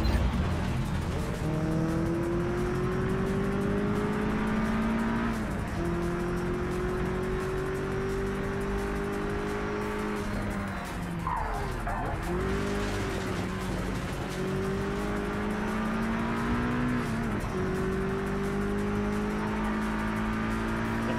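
A Mustang race car in Project Cars 3 roars loudly and steadily, its engine pitch rising through repeated gear changes, briefly dropping and climbing again mid-run.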